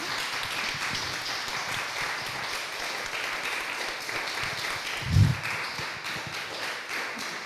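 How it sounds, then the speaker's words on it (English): Audience applause closing a community project session, even clapping throughout with one louder thump near the end. "An applause."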